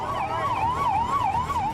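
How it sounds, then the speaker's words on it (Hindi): Police patrol cars drive through Ahmedabad streets during lockdown with sirens wailing, a loud, steady rising-and-falling tone that fills the whole moment with no voices. "पुलिस की सायरन बजाती गाड़ियां"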